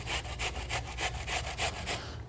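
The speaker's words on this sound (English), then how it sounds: "I'm going to grate in 2 tablespoons of onions on our box grater" Onion being grated on a metal box grater, a steady run of about eight rhythmic rasping strokes, close and fairly loud, with a low background hum and no talking.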